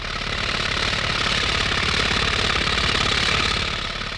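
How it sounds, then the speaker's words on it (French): Pneumatic rock drill boring five-metre blast holes in an open-pit coal mine, a loud, steady rapid hammering with engine drone, continuous throughout and close by. "En moins d'une minute, des trous de mine profonds de 5 mètres sont forés"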